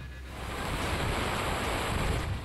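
A steady, roaring wash of a flooded river fills the whole stretch, broad and unbroken, with a windy rumble and no voices; the Gorakshaganga river in flood after cloudburst rain in the Satpura range.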